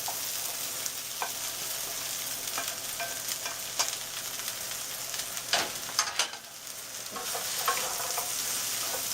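Cut okra dropped into a pan of roasted onion and spices, frying with a steady sizzle while a utensil stirs and scrapes in scattered clicks and swishes, close and fairly loud with no talk.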